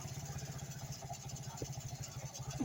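A Yamaha motorcycle engine idles on a newly fitted Mikuni carburetor, a close, even low-pitched putter with a regular pulsing rhythm throughout.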